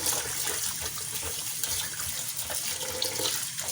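Tap water pours steadily into a bowl set out for soaking washed tomatoes in a kitchen, a loud, continuous splashing gush close by with no talking.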